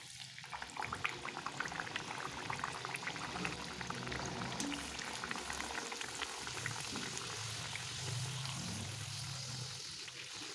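A puri deep-fries in hot oil, giving a loud, steady, dense bubbling and crackling hiss that carries on without a break for the whole stretch, with no voices.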